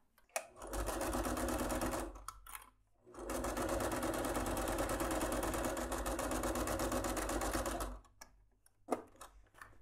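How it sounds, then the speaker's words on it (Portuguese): A sewing machine stitches the lining of a small fabric wallet, running in two long, steady rapid bursts with a short stop between them, then quiet handling clicks at the end. "Primeiro a gente vai costurar aqui embaixo."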